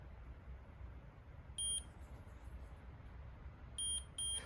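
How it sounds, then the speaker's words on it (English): A Harvst 4-zone greenhouse sprayer controller gives short, clear electronic beeps: one beep, then a quick pair about two seconds later, over a faint, low background hum. "so that's my 2 beeps"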